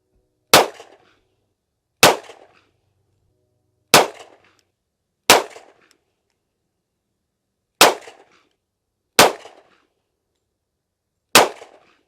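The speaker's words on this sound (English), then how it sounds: "8 rounds out of the TRP operator and putting Nighthawk reliability challenge to the test" A Springfield 1911 TRP Operator pistol in 10mm fires eight 165-grain reloaded rounds outdoors, each shot a sharp, loud crack with a short decaying tail, spaced unevenly with silence between.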